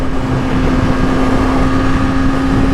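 A 2016 Yamaha R6 motorcycle being ridden, a loud steady engine drone with a constant hum and rushing wind noise throughout, close to the microphone.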